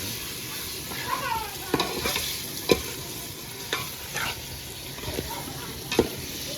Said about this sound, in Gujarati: તો આપણે છે ને આને તેલમાં ફ્રાય કરી નાખવાના છે ઝીંગાને